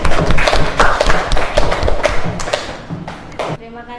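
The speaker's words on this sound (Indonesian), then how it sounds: "Ya, tepuk tangan buat Nancy ya" Scattered clapping from students in a classroom, a loose burst of taps and thuds mixed with voices, fading out at the end.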